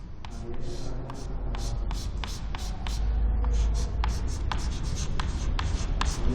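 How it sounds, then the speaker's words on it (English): A plastic rod rubbed with a wool cloth in a physics class demonstration, steady close scratchy strokes repeating in quick rhythm over a low room rumble. "Now this plastic rod is going to rub with wool cloth."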